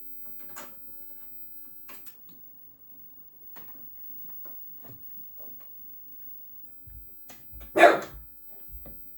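A dog gives a few short barks close by, with a louder burst near the end amid scattered small clicks and knocks.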